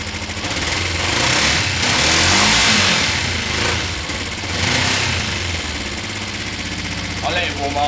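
A 50cc two-stroke scooter engine, warmed up, revs in broad surges and then settles toward a buzzing idle, close and loud throughout.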